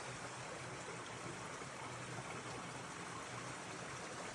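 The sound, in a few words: river running underneath a pile of boulders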